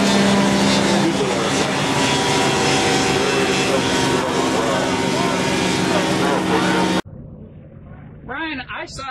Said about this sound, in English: it's a little airplane that you sit on